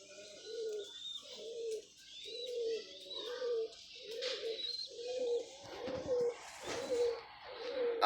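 Pigeons coo steadily in a repeating rhythmic pattern, fairly close, with a few faint chirps from other birds in the background.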